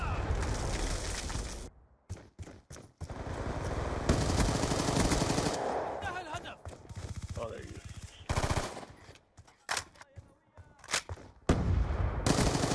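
Rapid bursts of silenced automatic fire in the shooter game Call of Duty: Ghosts come in several rapid volleys, loud and close, broken by short gaps, with scattered impact sounds between them.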